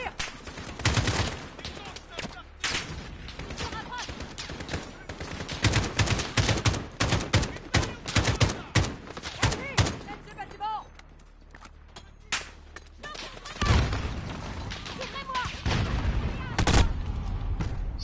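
Gunfire in Call of Duty Modern Warfare rattles in bursts and single shots, some loud and near, others more distant, with someone talking over parts of the action.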